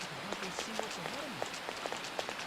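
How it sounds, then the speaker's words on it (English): Heavy rain in the video game Persona 5 Royal makes a steady, dense hiss throughout, with voices speaking over it. "Oh wow, it's raining. It's raining so hard."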